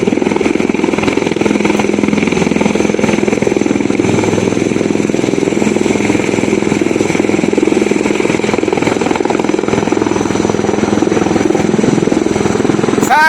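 A rescue helicopter flies during flood rescue operations in Ankola, Karwar, its rotor and engine giving a loud, steady, continuous drone throughout with no break.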